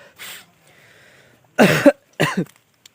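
A few sharp, close coughs from a person with a cold, with short gaps between them, preceded by a brief faint throat sound and soft breathing.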